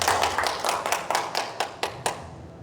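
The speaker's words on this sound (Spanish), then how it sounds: "Regalémosle un aplauso al Señor esta mañana. Fuerte, fuerte, fuerte que se sienta." Clapping in a church service: about ten firm, evenly spaced claps in a quick steady rhythm, close and fairly loud, with no talk over them.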